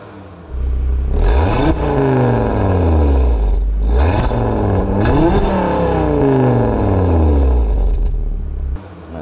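A Stage 2 tuned Audi RS3 with its 2.5-litre engine revs hard several times, loud and close, each rev climbing sharply and dropping back, with crackling between the bursts before the engine cuts off.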